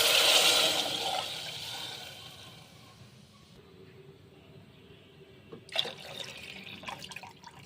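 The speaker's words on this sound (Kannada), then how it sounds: "1 ಕಪ್ಪಿಗೆ 2 ಕಪ್ಪು ನೀರು ಹಾಕಬೇಕು" Water poured into a cooking pot for upma made with semolina, a loud rushing splash at first that tapers off, followed by faint dripping and a few small clinks.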